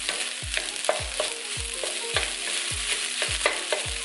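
Fried rice chunks broken up with a utensil in pancetta fat in a pan, a rhythmic series of about nine sharp scraping taps over a constant sizzle, close and clear.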